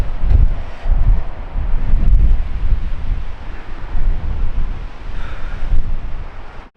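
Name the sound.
strong storm wind at a coastal overlook in Alaska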